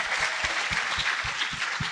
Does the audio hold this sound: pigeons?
no